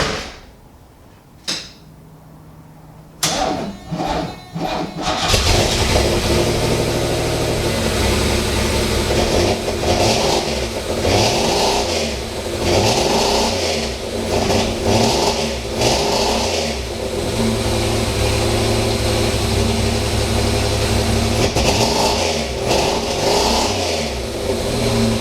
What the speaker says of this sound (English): let's listen to this engine in this car for the last time.